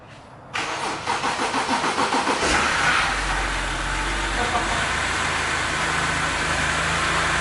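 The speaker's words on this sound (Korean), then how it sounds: "그래서 시동을 걸고 한번 보려고 합니다." A damaged, just-repaired Hyundai Genesis Coupe does a cold start. The starter cranks in rapid rhythmic pulses for about two seconds, then the engine catches and settles into a loud, steady, slightly wavering idle close by.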